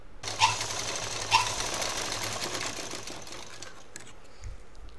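A sewing machine stitches a fold along the side of a fabric shopping bag, running in a steady close whir with two sharp clicks near the start before the motor slows and stops near the end.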